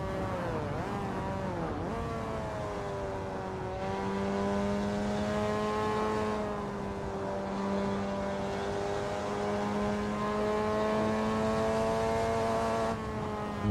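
Mazda MX-5 racing around Lime Rock in Assetto Corsa, a steady engine drone with a rising gearbox whine layered on top as the car holds speed and climbs, continuous and close throughout.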